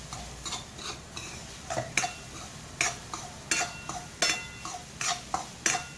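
Broccoli paneer paratha filling stirred in a pan with amchur and turmeric, a spoon scraping and clinking against metal in irregular strokes over a soft sizzle, close and clear with no talking.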